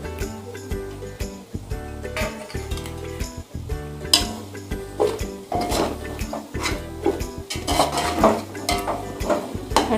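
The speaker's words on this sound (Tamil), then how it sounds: "ஆட் பண்ணி நல்லா கிளறி விட்டுக்கிறேன்." Metal utensils scrape and clink against a pan in quick, irregular strokes as spices and pandan leaves are stirred for mutton biryani, with a soft sizzle underneath and pot clatter throughout.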